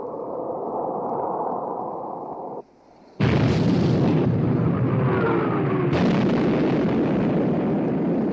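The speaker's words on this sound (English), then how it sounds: "Torpedo hit amidship, sir." A torpedo striking a warship amidships in a 1960 war film sets off a loud, sustained explosive roar that cuts out briefly and then surges back as a heavy, continuous rumbling blast.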